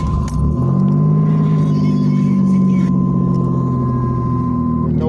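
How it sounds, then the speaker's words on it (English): A 1989 Camaro RS engine cranks and catches right away, then settles into a loud, steady idle with a low throbbing hum close by. "And now I can start the car."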